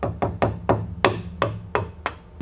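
A hammer taps a quarter inch chisel while cutting out part of a replica ancient wooden lock, giving eight sharp, evenly spaced knocks close up and alone, the later strikes ringing slightly brighter.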